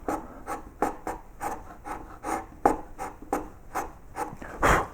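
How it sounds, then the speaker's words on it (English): Mallet blows driving a carving chisel along a lined-in groove in a wooden child's bedroom sign, a steady series of about a dozen close, crisp woody taps and scrapes with no talking. "The mallet is good at this point because you can just float it into the corner"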